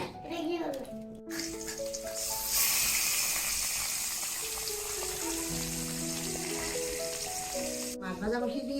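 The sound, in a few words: rui fish frying in pan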